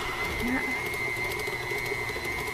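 An electric stand mixer runs at speed 4 creaming cookie dough, giving a continuous, even motor drone with a steady high whine, close and moderately loud.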